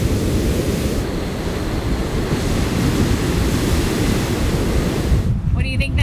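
Heavy surf roars onto a New Zealand west coast beach in a dense, continuous rumble with wind buffeting the microphone, the wash holding loud and close for several seconds.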